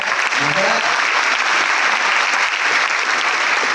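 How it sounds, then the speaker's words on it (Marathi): Loud, sustained applause fills a hall at a poet's birthday celebration, a dense, even roar of clapping from a large audience with no break. "एका फक्त जोरदार टाळ्या माझ्या या सगळ्या मित्रांसाठी होत्या"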